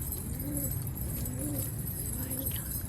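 Rooftop pigeons kept by a pigeon fancier coo in slow repeated low calls, three soft phrases over a constant steady background hum, with no clear wing flapping.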